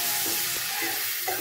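Dried shrimp frying in a pan over a high flame, giving a dense, continuous sizzle with a few soft stirring scrapes, close and steady without any talking.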